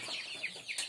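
Young chicks and hens on a small farm cheep and cluck in quick repeated high calls, several birds close by, with no talk over them.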